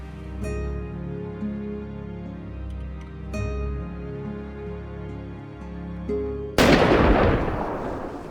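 Music plays, then a single loud, sharp gunshot bursts out near the end and rings briefly.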